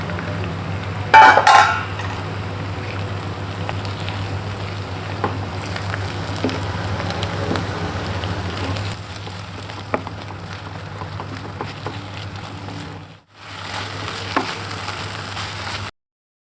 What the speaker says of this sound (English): now I'm going to add the marinated prawns to it and allow it to cook